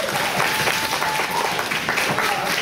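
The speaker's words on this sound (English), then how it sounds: "a round of applause" Audience applause at a school presentation, steady dense clapping from a crowd close by, continuous throughout with a voice faintly underneath.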